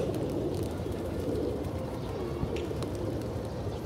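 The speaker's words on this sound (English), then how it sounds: "So let's go feed some birds." Pigeons gathering to be fed at Batu Caves, soft cooing and bird calls over a steady outdoor rumble, with a few brief sharper chirps and no speech.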